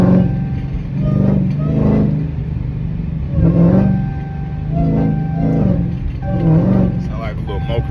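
Heard from the cabin of a moving Dodge Challenger Hellcat Redeye, a low engine drone rises and falls in revving swells, with people talking over it throughout.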